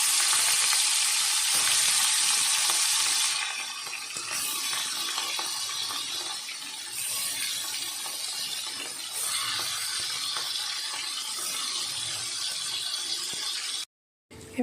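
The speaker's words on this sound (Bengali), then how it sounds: "এবার হালকা করে চিংড়ি মাছগুলো একটু ভেজে নেব।" Shrimp frying lightly in a pan with chopped onion, ginger and garlic, a steady bright sizzle that is loudest at first, then settles to a softer continuous crackle, close and alone, with a brief cut near the end.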